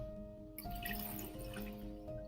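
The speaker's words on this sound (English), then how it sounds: "So we're going to put water in." Water poured from a jug into a blender jar while making a date drink, a steady close splashing and filling sound that runs for about two seconds over a faint background hum.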